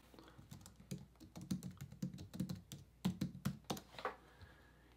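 Rapid keyboard typing on a computer keyboard as a search term is entered into a graphic design program, with close, crisp clustered keystrokes forming irregular bursts throughout, alone with no talk.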